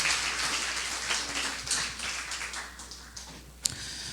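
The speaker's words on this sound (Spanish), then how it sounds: "dele un fuerte aplauso al Señor" A church congregation applauds, a fairly faint, steady spatter of clapping across the room with a sharp thump near the end.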